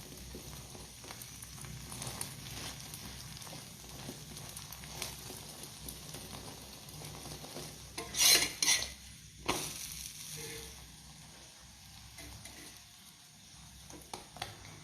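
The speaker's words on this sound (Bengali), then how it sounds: "তো চলো আমি আগে এটা ভেজে নিই।" Rolls fry in a pan with a low, steady sizzle, joined by a brief burst of clattering utensil and pan handling midway before settling back to quiet frying, no voices.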